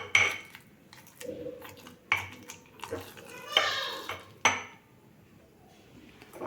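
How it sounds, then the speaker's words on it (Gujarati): A spoon clinks and scrapes against a bowl in irregular strokes while garlic and Kashmiri chili are stirred with water for chutney; soft talking sits underneath between the clatters. "પાણી સાથે લસણ અને મરચાંને સારી રીતે મિક્સ કરી લઈશું"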